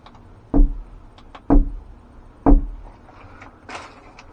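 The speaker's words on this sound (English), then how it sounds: "Madeline, I'm going to knock again" Three evenly spaced, solid knocks on a door in an old jail, each about a second apart, sharp and fairly close, followed by quiet shuffling and a faint higher rustle.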